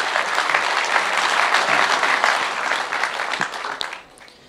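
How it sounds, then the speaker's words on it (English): Audience applause greeting the new Victorian state director of the Australian Conservatives at a political address, a dense sustained wash of clapping that tapers off near the end. "Please give him a great round of applause as he comes to chair today."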